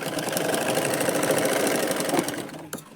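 A sewing machine stitches lined blouse fabric in a continuous, close, steady whirring run that stops abruptly near the end.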